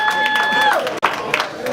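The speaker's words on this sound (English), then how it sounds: "All the beautiful women in here, clap for the ladies." A crowd in a sports bar claps and cheers for the ladies during a live performance, with a busy mix of clapping and voices under a sustained musical tone that cuts off partway through.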